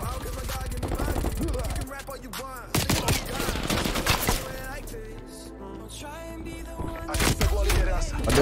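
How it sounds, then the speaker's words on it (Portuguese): Shotgun and automatic gunfire from the video game Call of Duty Cold War, played on PlayStation 5, in dense, loud bursts with game music and effects throughout. "O cara toma tiro de 12 e não morre"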